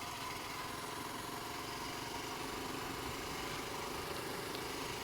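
A motorcycle engine drones steadily while the bike is ridden, an even, buzzing hum with wind noise, faint and unbroken, with no talking.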